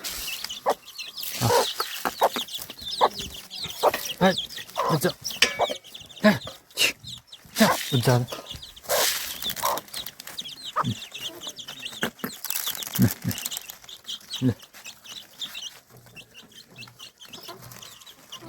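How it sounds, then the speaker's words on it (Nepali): Chickens and small chicks in a Nepali village yard cluck and peep in a busy, continuous stream of close calls, with no talk. "यहाँ चाहिँ सानो सानो बच्चाहरू चाहिँ चल्लाहरू"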